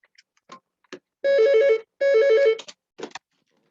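A phone ringing indoors, two loud electronic trilling rings separated by a short gap, with a few faint clicks and knocks around them.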